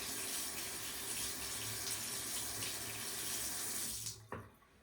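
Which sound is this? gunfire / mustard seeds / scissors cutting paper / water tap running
water tap running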